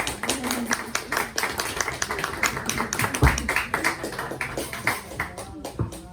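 An audience claps after a talk at a science café event, a scattered, moderately close patter of hands that runs for several seconds, with a few voices mixed in.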